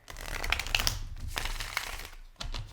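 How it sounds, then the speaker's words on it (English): Tarot cards shuffled close up, a continuous papery rustling and flicking with a few sharper snaps, over a low rumbling background. "I'm going to be shuffling the cards and waiting for jumper cards."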